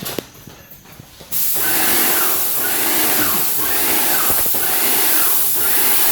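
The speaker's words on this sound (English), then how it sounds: "you can just use the spray pan" Steady, loud hissing spray starts abruptly after a quiet moment and continues without a break, a pump sprayer misting water onto a textured ceiling close by.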